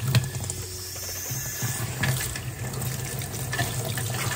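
Cold tap water pours steadily into a sink in a tiny house, a continuous splashing flow heard up close with no one speaking.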